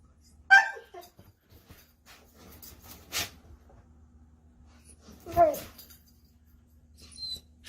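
A pet dog reacts as its owner slowly approaches and jumps, giving a couple of brief whimpering yips separated by a pause, fairly close, with low background noise and faint voices.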